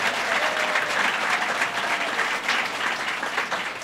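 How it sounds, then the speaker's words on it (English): Sustained applause from an audience gathered at Glens Falls Hospital during a governor's announcement, a dense steady wash of many hands clapping at even loudness throughout. "Give him a round of applause."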